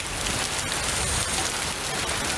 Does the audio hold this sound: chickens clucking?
no